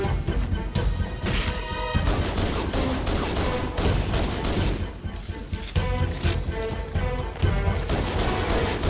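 Rapid pistol fire against the Flood in Halo: Combat Evolved, a dense barrage of sharp shots mixed with crashing impacts and explosions, loud and continuous throughout.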